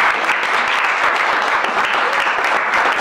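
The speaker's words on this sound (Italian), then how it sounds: "vi prego di rivolgere un piccolo applauso perché entra in scena" An audience at the Istituto Italiano di Cultura in Paris gives a continuous, fairly loud round of applause as a performer walks onstage, with no voices over it.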